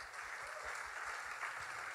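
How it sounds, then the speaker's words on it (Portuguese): A church audience applauds to honour the artist behind some artwork; faint, distant, continuous clapping with low rumble beneath it. "Uma salva de palmas para Eliseu que fez essa arte."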